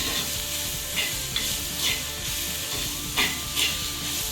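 Onions sauté with salt in a pan, a dense continuous sizzle broken by several spoon-stirring scrapes, close and alone with no voices.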